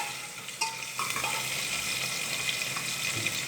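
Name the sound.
coriander frying in oil for masale bhat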